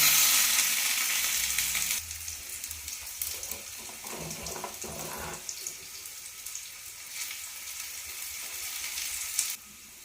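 Shallots, curry leaves and dried red chillies fry in hot oil for a Malayalam-style colocasia leaf curry, a steady close sizzle that is loud at first and then settles into a softer, even crackle with a brief clatter near the end.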